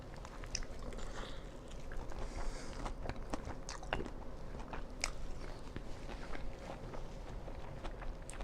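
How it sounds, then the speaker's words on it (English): Close, soft munching and crunching of food in a person's mouth, irregular bites and chews repeating over several seconds, quiet and intimate with no speech. "I'm sorry if you can hear me munching something, but I'm damn hungry"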